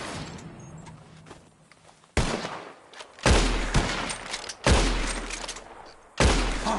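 Four loud, sharp gunshots ring out in Red Dead Redemption 2 as players fire at birds in the sky, spaced a second or so apart after a quieter stretch of ambient game sound.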